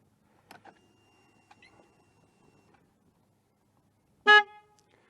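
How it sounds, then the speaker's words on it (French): A truck-style horn fitted to a Harley-Davidson motorcycle gives one short, loud blast after several seconds of faint clicks and handling noises. "je vais vous faire écouter le klaxon là, parce que là, c'est rigolo"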